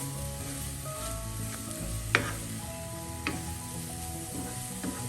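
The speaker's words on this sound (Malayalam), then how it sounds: "തേങ്ങ അവിടെ ചേർത്ത് നമുക്കെല്ലാം ഒന്ന് പച്ചമണം മാറുന്ന വരെ മിക്സ് ചെയ്യാം" Grated coconut and carrot stir-fry in a pan for a carrot thoran, with a continuous close sizzle, soft scraping stirs and a couple of sharp utensil clicks.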